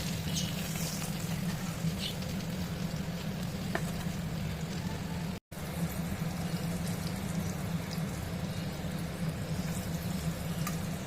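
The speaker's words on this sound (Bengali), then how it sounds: "বেগুনগুলো ভাজতে একটু সময় লাগছে কারণ বেগুনগুলো একটু ভালো করে না ভাজলে ভালো হবে না" Eggplant pieces frying in oil give a continuous, even sizzle and crackle close by, with a low steady hum beneath it and no voices.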